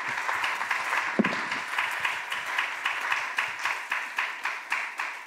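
Church congregation applauding after a pastor's call to praise, steady crowd clapping with rhythmic bursts throughout, moderately loud and without speech.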